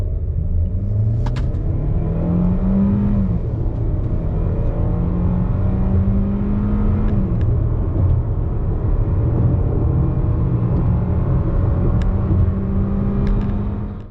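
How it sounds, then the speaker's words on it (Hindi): A 2021 Hyundai Elantra with a six-speed Tiptronic automatic accelerating hard from 0 to 100 km/h, engine note rising through successive gear shifts, loud and close with a steady rumble and no talk. "हम आप लोगों के लिए इसका 0 to 100 टेस्ट करके आपको दिखाते हैं कि ये 0 to 100 में क्या फिगर्स देती है।"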